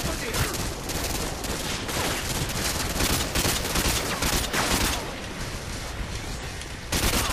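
Rapid bursts of Modern Warfare 2 gunfire crack almost continuously, loud and dense, with overlapping shots and brief lulls across several seconds.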